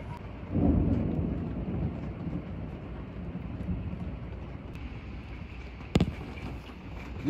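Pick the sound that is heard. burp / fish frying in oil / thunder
thunder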